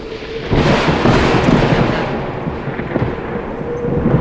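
A storm breaks in a cartoon story as a heavy roll of thunder erupts after a brief lull and rumbles on loud and sustained, with a rain-like hiss underneath.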